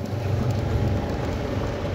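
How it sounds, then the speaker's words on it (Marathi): Steady monsoon rain falls continuously at an industrial estate, a dense even patter with no voices, moderately loud throughout. "पाऊस पण चालू आहे बघू शकता"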